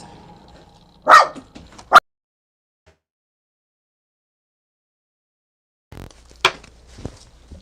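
Indoor dogs barking: two short barks early, then a few seconds of near silence before another bark and some faint yips close by.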